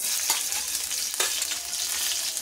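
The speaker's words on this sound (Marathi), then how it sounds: "लसूण हे चांगल्या प्रकारे फ्राय करून घ्यायचे आहे।" Garlic fries hard in hot oil with cumin and mustard seeds, a bright, loud, continuous hiss with a couple of brief spatula scrapes cutting through.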